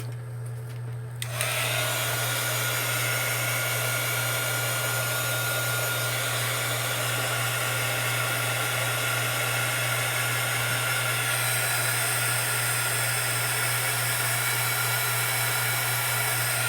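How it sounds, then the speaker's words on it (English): Heat gun drying a mixed media craft piece, switching on after a brief click and then blowing as a loud, steady hot-air roar with a constant hum, close by and uninterrupted for the whole stretch. "I need to get my heat gun out and I need to dry that."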